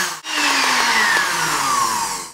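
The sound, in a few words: blender blending chilled coconut cream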